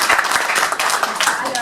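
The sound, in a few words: audience applause of encouragement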